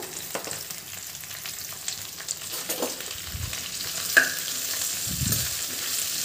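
Salted okra fries in a little oil, giving a continuous close crackling sizzle with a few soft stirring scrapes and knocks against the pan.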